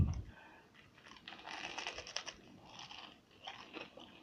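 Crispy fried zucchini and broccoli bites are bitten and chewed close up, with faint irregular crunches and crackles coming in soft bursts at low volume.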